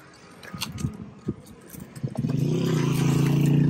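A Daihatsu Cuore with an upgraded engine cranks with a few clattering starter turns, then catches and settles into a steady, close idle hum that grows louder toward the end.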